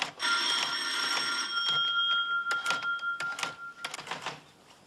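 An old-style telephone bell rings in a long continuous trill, then breaks into shorter bursts before stopping, with some clatter alongside.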